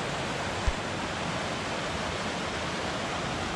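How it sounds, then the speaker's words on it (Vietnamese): Steady broadband rush of a mountain stream flowing in Lai Châu, northwest Vietnam, continuous and full without pause, with one brief low thump near the start. "dòng suối chảy đẹp quá các bạn"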